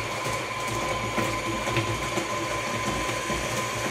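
Oreo cookies are stirred into chocolate cheesecake batter by an electric mixer, which runs as a steady, continuous whirring drone with no talking.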